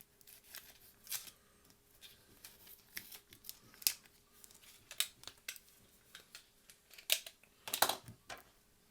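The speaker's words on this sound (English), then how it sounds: "I'm going to cut some excess material here off" Scissors or a blade trim excess HTV heat-transfer vinyl at a crafting table, giving a string of faint, sharp snips and clicks at an irregular pace with no talking.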